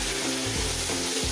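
Tomatoes frying in a hot kadai with oil give a steady, close sizzle and crackle running through the short moment, with no talk over it.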